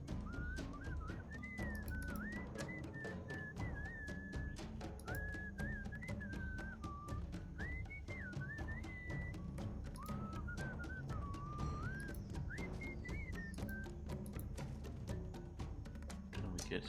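A melodic human whistle drifts through a scene in the Sam & Max Season 2 adventure game, a wavering tune of short phrases with pauses, soft and fairly distant over a quiet background score.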